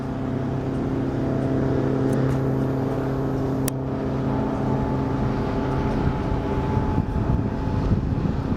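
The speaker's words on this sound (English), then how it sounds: "Oh, a couple of jet skis." Jet skis speed across Belleville Lake on the Huron River, a steady droning motor hum that holds close and fairly loud throughout, with no voices.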